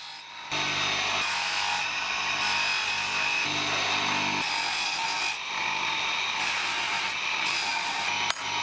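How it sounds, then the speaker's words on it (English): A buffing wheel polishes a restored rusted Filipino balisong blade with compound, giving a steady, close whirring hum broken by brief dips and a small click near the end. "polishing compound is applied on a buffing wheel, bringing the blade, handles and pins to a mirror shine"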